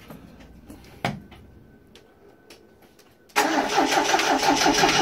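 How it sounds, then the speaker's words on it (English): A 1982 Triumph TR7 with erratic ignition starts up: a few faint clicks and a sharp knock, then the engine catches abruptly and runs loud and rough, a steady close idle that carries to the end. "It might not start because the ignition's all over the place."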